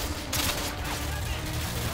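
Rapid gunfire in Call of Duty Modern Warfare 2 during a favela firefight, sustained dense bursts at a steady loud level with muffled voice-like sounds mixed in.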